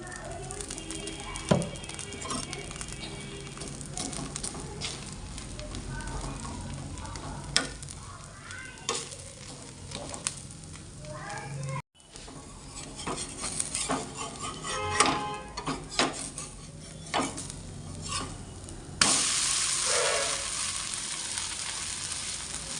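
Patishapta pitha batter sizzles in a little oil in a pan, a soft crackling hiss with spatula scrapes and clicks, someone talking over it at times, and a louder burst of sizzling near the end.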